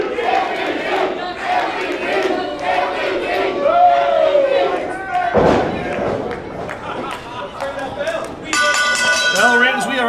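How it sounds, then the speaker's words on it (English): Pro wrestling arena crowd cheering and shouting loudly for a main event, a busy roar with individual yells standing out, a sharp thud midway, and a brighter burst near the end. "The crowd already on their feet"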